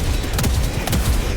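The autocannon sentry in Helldivers 2 fires a few loud, heavy shots in quick succession over dense battle noise, with no talking.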